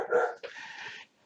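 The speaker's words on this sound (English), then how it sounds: "please ignore Diesel if you hear him barking" A single short dog bark or yelp, close and moderately loud, trailing into a brief whine.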